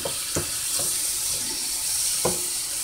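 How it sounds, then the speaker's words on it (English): Beef stew meat sears in a pot with a steady bright sizzle, broken by a few sharp clicks and scrapes as the pieces are moved, close and fairly quiet with no talking. "I'm searing, braising or searing, or browning, whatever you want to call it"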